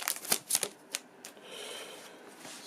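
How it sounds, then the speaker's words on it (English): Board game cards for a rehome deck being unwrapped and handled, a quick run of crisp papery snaps and flicks followed by softer rustling, close and alone. "So let's get these rehome cards open"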